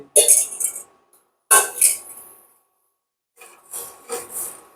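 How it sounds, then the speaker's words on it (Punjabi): Tea poured through a strainer into a pot on an induction cooktop, made with peanut milk: three separate bursts of close splashing, trickling pour sounds with pauses of silence between, no talking. "ਇਹ ਜਿਹੜੀ ਚਾਹ ਬਣੀ ਹੋਈ ਸੀ ਇਹਨੂੰ ਅਸੀਂ ਪਾ ਦਿਆਂਗੇ ਇਹਦੇ ਵਿੱਚ ਪੁਣ ਕੇ"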